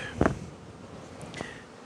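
Honey bees buzz in a hive, a soft, steady drone heard close by, with two brief louder thumps or knocks over it.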